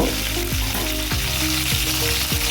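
Vegetables frying in oil for a rohu fish curry with flat beans and potato, a loud steady sizzle up close with a few rhythmic spatula scrapes against the pan, no voices.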